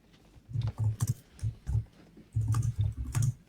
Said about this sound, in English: What's that sound? Her typing.